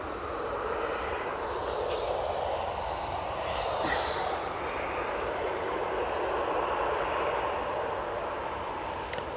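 TUI airliner in plain livery landing at Manchester Airport, heard as a faint, distant, steady jet rumble with a thin high whine drifting through it, alone without talk.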